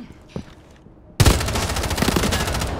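Burst of automatic gunfire fired through a wall in Rainbow Six Siege Mobile: a faint distant crack, then a loud, sustained rapid-fire volley close up, continuing to the end without speech.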